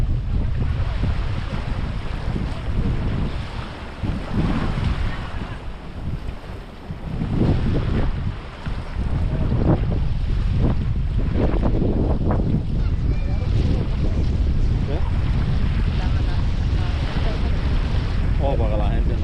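Strong wind buffets the microphone over open water during a Miami boating regatta, with waves and a boat's churn beneath, roaring steadily and close throughout.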